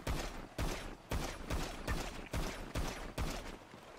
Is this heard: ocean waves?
no